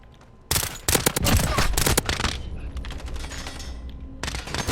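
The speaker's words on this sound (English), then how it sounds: "Definitely a weapon I'm a fan of right now is the burst fire pistol" Burst-fire pistol shots crack out in rapid clusters during a Modern Warfare game match, loud and close, with several quick bursts in succession over faint background ambience.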